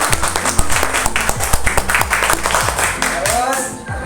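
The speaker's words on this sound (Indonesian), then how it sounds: "Nah, tepuk tangan buat Wahyu." Applause from a group of schoolchildren in a classroom, a dense run of claps filling about four seconds at steady, fairly loud volume, with voices mixed in.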